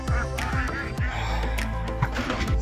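Ducks being herded toward a pen on a homestead make repeated short honking calls, near and steady, over a continuous rumble of background noise.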